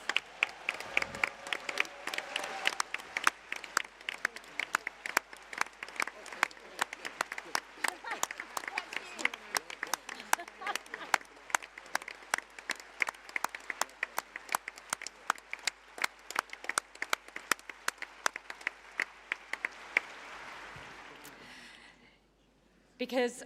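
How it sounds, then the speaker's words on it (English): Sustained applause at the Labour Party conference in Liverpool for party staff, a large hall of hands clapping steadily for about twenty seconds before dying away, with a voice returning at the end. "can we have a massive round of applause for party staff?"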